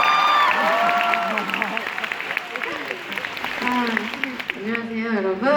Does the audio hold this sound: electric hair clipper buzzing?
no